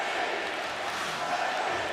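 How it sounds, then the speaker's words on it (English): Ice hockey arena crowd at the 2018 IIHF World Championship game between the Czech Republic and Russia, a dense continuous roar of cheering fans, steady and fairly loud throughout. "Crowd cheering on the Czech Republic."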